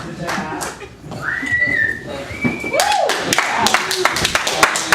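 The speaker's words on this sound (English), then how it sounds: "a round of applause for NSYNC" A live audience cheers NSYNC with loud rising whistles and scattered clapping, hoots and thumps mixed together in a lively room, with voices calling out amid the noise.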